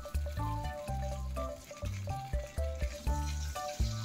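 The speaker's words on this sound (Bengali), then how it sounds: "একইভাবে বাকি মাছ দুটোও ভেজে নেব।" Pabda fish frying in mustard oil in a pan, a quiet bubbling sizzle heard close with uneven pulses and faint tonal sounds in the background.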